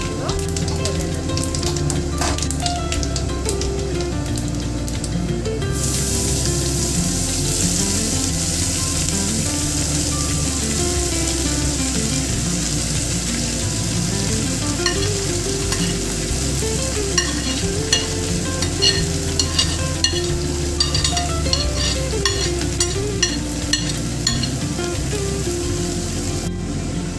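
Shredded cabbage tipped into a hot pan with cinnamon and panch phoron, a steady loud crackling sizzle that swells after a few seconds and continues with scattered pops and clinks for a long stretch.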